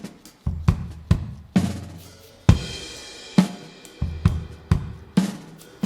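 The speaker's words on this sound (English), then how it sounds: "We recorded drums, like I said." A brown Yamaha acoustic drum kit plays a loose groove, kick and snare hits spaced out with a cymbal crash midway, recorded close in a roomy jam space.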